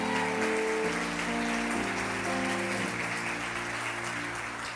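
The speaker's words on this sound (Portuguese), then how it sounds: "aplaude o Senhor Jesus, porque é a minha mãe que está aqui" Church congregation applauding steadily and loudly throughout, a dense wash of clapping with music or sustained tones underneath, fading slightly toward the end.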